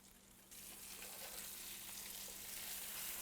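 Walleye fillets fry in plenty of butter in a skillet, giving a steady, close sizzle that jumps up loudly as they go in and then holds at an even, crackling level with no talk.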